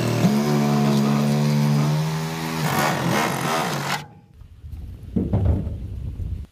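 Motorized blade slicing down the middle of foam inside an aluminum jon boat bench, a loud steady buzzing whine for about four seconds that cuts off abruptly, followed by quieter scraping and handling noises.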